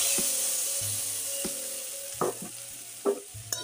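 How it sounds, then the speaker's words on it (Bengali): Ground spice paste for a vegetarian curd cauliflower curry cooks in hot oil over low flame, giving a soft steady sizzle with a few louder scraping stirs near the end. "আর মিক্সির জারে যে মানে মশলা করে রেখেছি সেটা আমি দিচ্ছি।"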